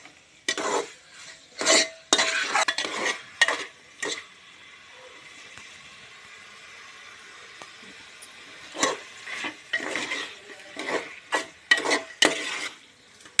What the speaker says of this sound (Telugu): మంచిగా కలుపుకొని కొద్దిసేపు ఉడకనివ్వాలి.